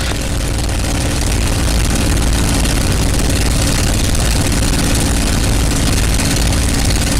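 A P-51 Mustang's engine runs steadily at close range during a magneto check, a loud, continuous low rumble and propeller drone that holds an even level throughout.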